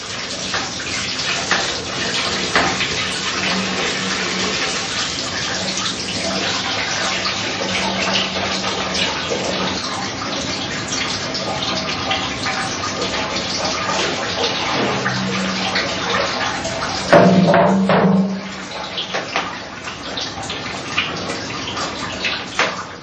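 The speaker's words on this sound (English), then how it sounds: "After every pressing, the big cauldron is refilled." Water pours steadily into a big cauldron in a traditional heathland apiary, refilling it after beeswax pressing; a continuous splashing rush fills the whole stretch, with a brief louder surge near the end.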